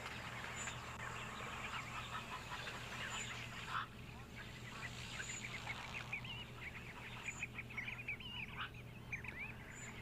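Egyptian geese and dabchicks calling at a waterhole, with faint, scattered honks and trilling calls at a distance over steady outdoor background noise.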